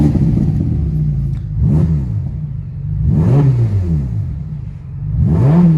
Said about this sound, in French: Je vais juste la démarrer, faire 1 ou 2 raises pour vous montrer un petit peu à quoi ça ressemble quand on fait ça avec une Roma